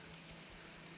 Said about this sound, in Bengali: বৃষ্টি ঝরছে